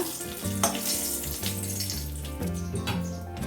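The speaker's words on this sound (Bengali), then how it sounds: "কড়াইতে আবার তেল দিয়ে দিয়েছি। এবার আমি ফোড়নে দেব একটা তেজপাতা" A bay leaf hits hot oil in a wok for tempering, giving a steady close sizzle and crackle with a few brief bursts of spitting, and no voices.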